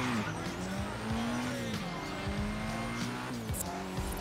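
A Nissan Silvia S15 Spec-S drifting in Forza Horizon 3, its engine droning loudly and steadily with gear changes while tires squeal continuously through the slide.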